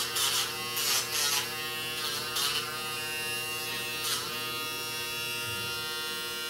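A Dremel rotary tool grinds a coated dog's nails in steady, close buzzing bursts that rise and fall as it touches each nail, over a continuous motor hum.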